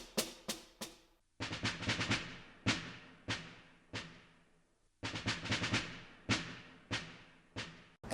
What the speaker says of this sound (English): When I walk up to the instrument and play Scheherazade Movement 3,